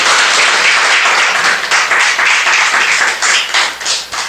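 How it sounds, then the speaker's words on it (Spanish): A church congregation claps loudly and steadily, a dense wash of many hands close by that swells and dips in waves without letup. "Dele un aplauso a la palabra de Dios."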